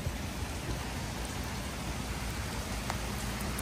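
Heavy rain falls on flooded Bangkok streets as a dense, even hiss of drops, steady and close with no pauses.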